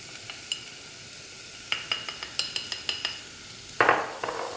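Turmeric, chili, coriander and garam masala spice powders sizzling with onions in a pan, under a steady fry hiss with rhythmic metal spoon clinks while stirring, ending in a louder burst of sizzling.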